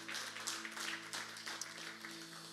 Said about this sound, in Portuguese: aplauda Jesus então